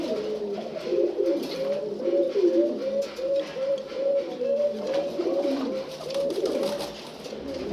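Turkish pigeons offered for sale coo steadily in a low, rolling chorus, several birds overlapping close by with repeated throaty phrases and no talk.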